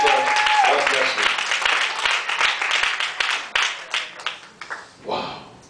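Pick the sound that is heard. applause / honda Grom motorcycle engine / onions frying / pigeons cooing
applause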